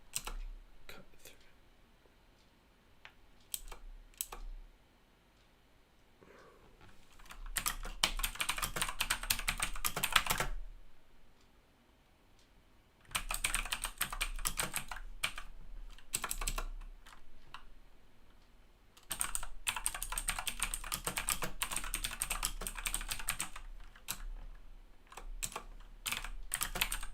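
Typing on a computer keyboard in quick, close clattering bursts separated by quiet pauses, no talking over it.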